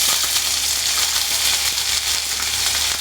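Ginger garlic paste frying in hot oil with tempering seeds (mustard, cumin, urad dal, chana dal), a dense, loud, close sizzle with faint crackles running steadily the whole time, with no talking.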